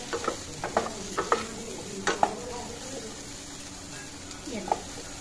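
Stirring egg curry in a pan after chili powder and salt go in, with jackfruit seeds in the dish: a spoon scrapes the pan in a run of short strokes over a low, steady sizzle, close and clear.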